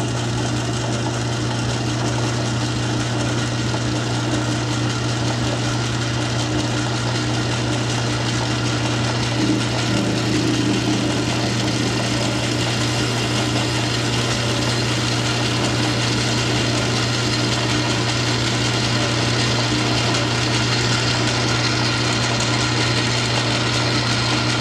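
Metal lathe facing off the end of a steel workpiece for a tap wrench, a steady continuous machining drone with a strong low motor hum, close and loud throughout with no talking.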